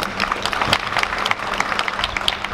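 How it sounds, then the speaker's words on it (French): Steady, dense applause from a large church congregation, continuous clapping filling the room without pause. "Applaudissements pour Pasteur Pierre-Alexandre Michael"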